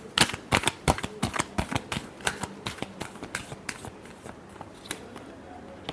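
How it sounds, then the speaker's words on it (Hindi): Tarot cards are shuffled by hand in a rapid run of crisp, close riffling snaps, loud at first and gradually softening, with no voice over them. "last shuffle"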